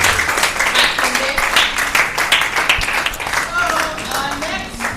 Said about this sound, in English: A round of applause for Mrs. Kemi Makinde.